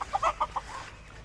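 A single rooster running across a farmyard lets out a quick run of about five sharp clucks in the first half-second, close and clear, then falls quiet.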